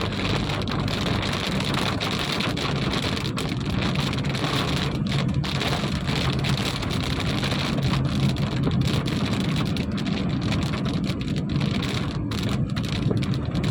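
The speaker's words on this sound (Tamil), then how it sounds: "இப்போ நல்லா செமையாக மழை பெய்யுதுங்க" Heavy rain drums steadily on a moving vehicle travelling between Namakkal and Salem, a dense, loud, unbroken roar with low road rumble underneath and no voices.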